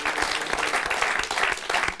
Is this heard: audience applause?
yes